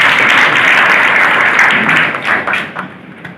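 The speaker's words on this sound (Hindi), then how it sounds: "उनकी एब्सेंस में भी उनके लिए एक बार जोरदार तालियां बजा दें" Loud, sustained applause from a crowd, steady for a few seconds and then tapering off unevenly toward the end.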